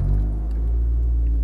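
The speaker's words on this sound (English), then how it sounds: "I'm going to start the engine." Seat Leon Cupra R engine cranking and catching, settling quickly into a loud, close, low steady idle rumble with no talking.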